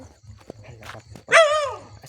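A dog gives a single sharp bark near the end, after a stretch of shuffling footsteps and faint murmuring on an outdoor path.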